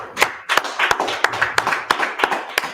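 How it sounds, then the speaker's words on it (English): Audience clapping at a gathering of the Israelite School of Universal Practical Knowledge, a crisp scattered burst of claps with a few sharp individual hand strikes standing out, close and fairly loud. "Let's clap it up."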